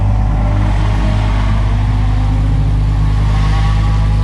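A GT3 Audi R8 race car engine holds a steady, deep, close mechanical drone with no pauses.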